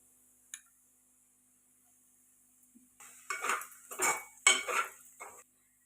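A spoon stirs puffed rice upma in a pan, giving a quiet tick, then a run of soft scraping, rustling strokes near the end, close and faint with no talking.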